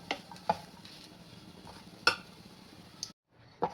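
A spoon mashes the potato filling for samosas in a pan, making sporadic quiet scrapes and a few sharp taps and clinks against the metal, with brief silences between.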